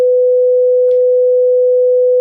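A steady pure sine test tone, used to demonstrate phase and polarity, holds one constant pitch, loud and alone, with a faint click near the middle.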